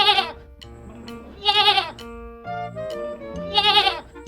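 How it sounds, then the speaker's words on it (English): A goat bleats in repeated wavering calls, roughly three loud quavering bursts spaced about a second apart, over a background of steady musical notes. "A goat says bleat."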